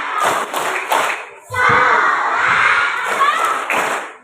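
At a school Isra Mi'raj gathering at SDN Sambong 02, a group of children clap in rhythm while loudly chanting Tepuk Rukun Islam, their claps mixed with their voices.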